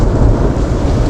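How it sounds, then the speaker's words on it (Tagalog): Loud, close thunder rolls continuously at an outdoor garbage dump, a broad heavy rumble with rain-like hiss layered over it and no talking. "Lakas ng kulog."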